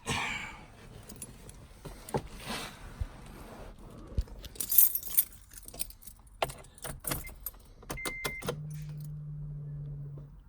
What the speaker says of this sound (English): the fuel pump did purr, so that's a good sign